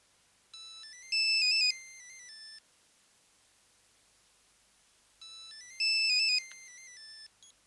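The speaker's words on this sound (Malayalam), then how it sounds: "എന്തേ ഫോൺ എടുക്കുന്നില്ലേ" A phone ringtone plays twice, a bright electronic melody repeating after a pause of silence, close and clear with no talking.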